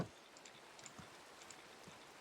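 Steady rain falls in a Minecraft game world, a soft continuous hiss with scattered faint drop patters, quiet and even throughout.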